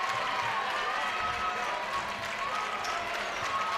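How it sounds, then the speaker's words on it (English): South Putnam fans applaud a defensive play at a high school girls basketball game, a steady wash of crowd clapping and cheering in a gym with commentary over it. "The defensive effort being applauded by the South Putnam fans."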